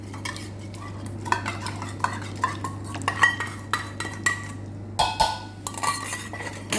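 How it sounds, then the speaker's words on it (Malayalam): A spoon stirs pomegranate sauce for a beetroot salad in a bowl, producing repeated light clinks and scrapes in an uneven rhythm over a low steady hum, with no one talking. "നമ്മളെ സോസ് ഇതുപോലെ ഒന്ന് മിക്സാക്കിയിട്ട് നമ്മളെ സലാഡയിലോട്ട് നമുക്കിതൊന്ന് ഒഴിച്ചു കൊടുക്കാം"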